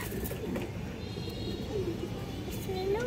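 A khaki male pigeon coos softly, giving a couple of low, brief coos close by over background room noise while a person talks.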